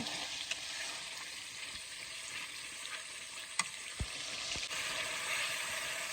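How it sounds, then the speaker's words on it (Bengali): Spices for a chicken curry sizzle steadily as they fry in a pan, with a continuous close hiss broken by a few soft clinks and stirring knocks. "এখানে মশলাগুলো ভালোভাবে কষিয়ে নেব।"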